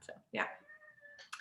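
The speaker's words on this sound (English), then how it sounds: "I'd rather the meows, the soft purrs" A pet cat meows once in a drawn-out, tonal call that is close and clear, with a person speaking briefly just before and right after it.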